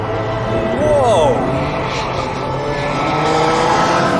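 A fast British car accelerating hard with a loud, sustained engine roar and a rising whine that sweeps upward, steady and close throughout.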